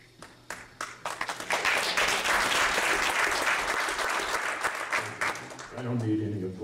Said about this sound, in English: I don't need any applause, thank you.